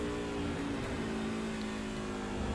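The engine of a race truck in a logging truck series at the Circuit of the Americas drones continuously and loud from on board, its pitch wavering as the driver works the throttle.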